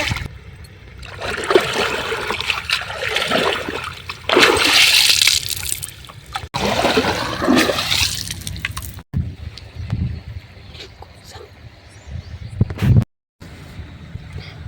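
Fresh river water splashes and trickles in a field, with bursts of broadband splashing in the first half and quieter, intermittent dribbling and water movement afterward, fairly close and alone.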